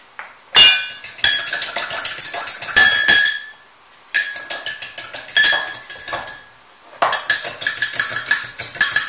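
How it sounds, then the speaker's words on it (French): Vinaigrette being whisked in a bowl: rapid, bright clinking strokes of a utensil against the bowl in three loud bursts separated by short pauses, close up. "Je continue à mélanger jusqu'à ce que j'obtienne une bonne sauce vinaigrette"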